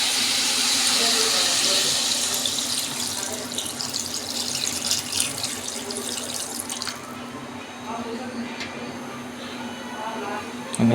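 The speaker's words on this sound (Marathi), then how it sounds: "पाणी ओतायचं." Water pours steadily into a pot of Malvani-style crab masala, a broad splashing rush that is loudest at first and thins toward the end, with faint background voices.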